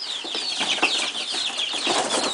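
A box of about thirty baby chicks cheeping together up close, a dense, continuous chorus of high peeps with no talking.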